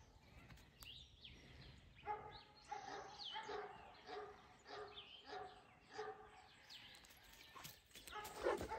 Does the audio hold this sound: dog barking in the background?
yes